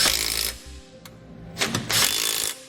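A power tool tightens nuts onto the studs of an EcoHitch Stealth trailer hitch on a 2017 Tesla. It makes two separate loud, whirring bursts with a brief clack between them.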